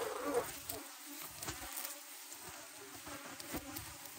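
Honey bees buzz around a hive that is storing capped honey and nectar, a faint, continuous drone of many wings with occasional louder passes from individual bees close by.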